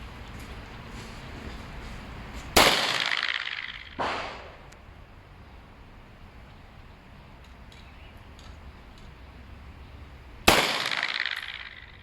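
Three sharp, loud gunshots from a lightweight alloy-frame Smith & Wesson MP360 revolver firing .357 Magnum rounds at a shooting range, each blast ringing out with a long decaying echo and irregular gaps between them.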